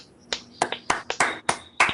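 Hands clap seven times in a quick, uneven burst, each clap sharp, bright and close, with short gaps between them.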